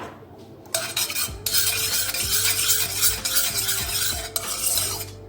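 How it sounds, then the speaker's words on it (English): A spoon stirs lemon juice into warmed milk, clinking steadily against the sides of the container in a close, continuous scraping rhythm with brief pauses. "Okay, that's the milk warmed, and just squeeze in some lemon juice. Give that a stir."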